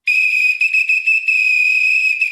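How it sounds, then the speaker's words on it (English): A shrill whistle blown in a long steady blast with a few brief breaks, loud and close, nothing else audible. "Give him a little bit of that whistle."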